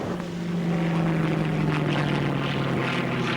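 A propeller airplane drones steadily with a humming engine tone as it comes in to land, heard alone without talk.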